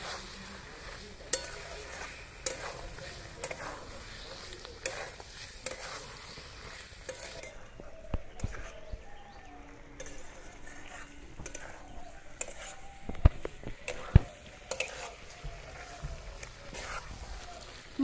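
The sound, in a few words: fried potatoes and peas sautéing with spices in oil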